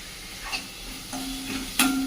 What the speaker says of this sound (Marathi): कांदा चांगला परतून घेऊया